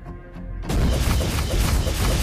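A turret being destroyed in the Mobile Legends video game, a sudden loud crashing boom that bursts in after a quiet moment and rumbles on dense and sustained to the end.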